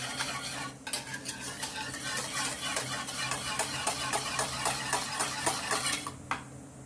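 Gelatin stirred into a banana panna cotta mixture in a pan, with a steady run of scraping and clinking spoon strokes against the metal, close and continuous, with a faint hiss underneath.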